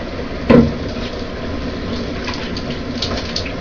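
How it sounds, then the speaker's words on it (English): Steady hiss of a hot shower running continuously, with a brief bump near the start, no voices. "Got a hot shower, feels great."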